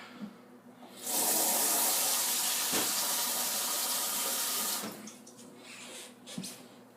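Tap water pours steadily into a pot for cooking rice, a loud close rushing stream lasting several seconds before it is turned off, leaving quieter clatter and handling sounds with no talking.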